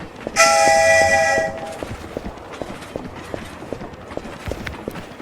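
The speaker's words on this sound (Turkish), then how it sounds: "Tren çok hızlanmadı mı sizce?" In Poppy Playtime Chapter 2, rhythmic clacking of train wheels rolling over rail joints, with a loud horn-like tone blaring near the start, then steady clatter continuing.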